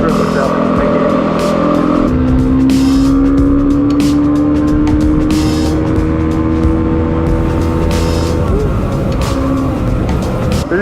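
Yamaha WR250R dual-sport motorcycle engine droning steadily and loud throughout a ride leaving a forest, with a rising tone as it accelerates and wind buffeting, and a rider speaking over it.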